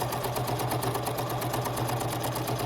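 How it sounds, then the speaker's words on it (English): A sewing machine runs continuously while stitching a half-inch-wide seam at about stitch length 3, its fast, even mechanical whir and needle rattle close and steady with no talk. "I'm just gonna sew a half inch wide seam all the way down."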